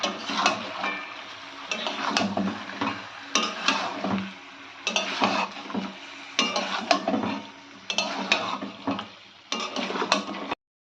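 Chicken being stirred in a pan with Kashmiri chili powder, a series of scraping strokes of a spoon against the pan over a soft sizzle, in several bursts separated by short pauses.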